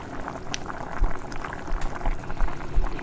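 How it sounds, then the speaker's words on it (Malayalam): Sardine curry with kudampuli bubbles and boils in a pot, a close, steady, irregular bubbling with soft pops and plops throughout, no voices. "അങ്ങനെ ഇതൊക്കെ തിളച്ചിട്ടുണ്ട് കേട്ടോ"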